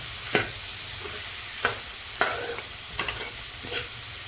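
Pumpkin curry with salt and chili being stirred in a pan, with about five sharp scrapes of a spoon against the pan over a steady low sizzle.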